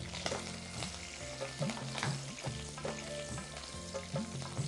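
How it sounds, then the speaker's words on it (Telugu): Cumin and green chili pieces sauté in a hot pan, a dense close sizzle broken by a rhythmic series of stirring scrapes against the pan, with no voices. "జీలకర్ర తర్వాత పచ్చిమిరపకాయ ముక్కలు వేసుకుంటాం. వేసేసి కొంచెం సాట్ అవగానే ఉల్లిపాయలు వేసి"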